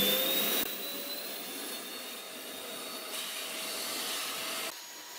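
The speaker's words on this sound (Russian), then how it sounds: "На ручке находится кнопка включения пылесоса" A Karcher steam cleaner's built-in vacuum runs with a loud, steady whooshing whine, its pitch and level shifting at a few points as the suction setting changes, with no voices.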